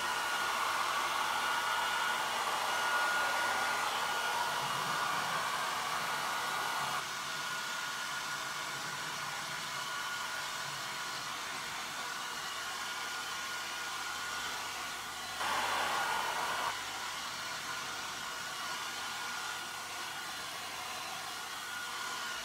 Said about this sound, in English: So I'm going to take a hairdryer.